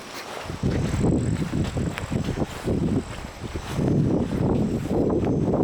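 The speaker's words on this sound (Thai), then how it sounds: "ตรงนี้น่าจะเป็นกิ่วลมนะครับ ลมจะผ่าน" Strong wind roars steadily through a mountain pass, a dense low rush that gusts and surges close to the microphone throughout, with no voices.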